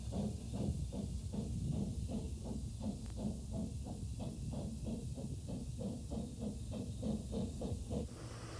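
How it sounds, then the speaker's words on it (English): Steady steam hiss from a narrow gauge steam locomotive in North Wales, with rhythmic chuffing pulses repeating evenly throughout, fairly close and continuous. "a great many locomotives are in steam and running around"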